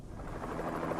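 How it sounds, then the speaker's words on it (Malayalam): Helicopter arriving in a film scene, a steady broadband rotor rumble that holds fairly loud and close throughout with no talk over it. "ഹെലികോപ്റ്റർ എത്തി."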